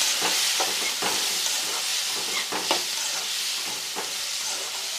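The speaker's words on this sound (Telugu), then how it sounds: "వేసుకొని బాగా వేయించేసుకోండి" Chopped onion and tomato pieces fry in oil for a chicken curry, a close, continuous sizzle broken by repeated scraping stirs of a spoon in the pan.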